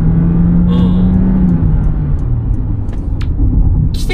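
A Honda Freed e:HEV 4WD in power mode pulls away from a standing start on a public road, its loud, steady cabin rumble and road roar rising gradually from close inside the car, with no talking.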